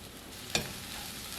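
Mushrooms and onions cooking down in a single pan make a soft, continuous sizzle, broken by one brief clatter of stirring about midway.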